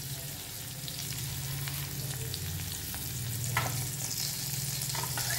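Capsicum, curry leaves and onion frying in a hot oil tempering, with a steady close sizzle and occasional scraping stirs, no voices.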